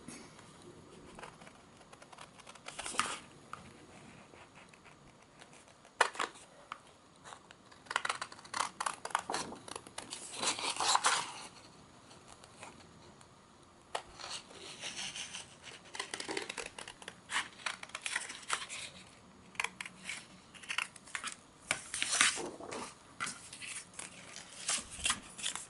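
Scissors snipping out paper pieces for a cottage-themed interactive craft page, a close, quiet run of short irregular cuts and crinkles in bursts with pauses between, no talking.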